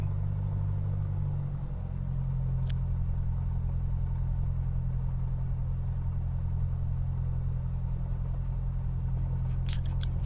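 A small single-engine aircraft in Microsoft Flight Simulator, a Sikorsky S-43 or W16 add-on, holds a steady engine drone during the run-up before takeoff, a constant low rumble with a slight rise in pitch near the start.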